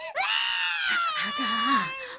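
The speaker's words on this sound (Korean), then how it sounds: "아기는 큰 소리로 울었어요." A baby's loud bleating wail as a sound effect in a Korean storytelling folk tale, one long sustained cry, close and alone, with no talk over it.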